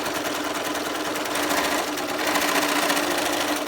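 A sewing machine stitches slowly through the pleats of a cloth face mask, its needle running in a steady, rapid, close-up rattle that continues without pause, with no talking over it.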